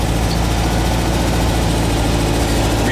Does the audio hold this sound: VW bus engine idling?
yes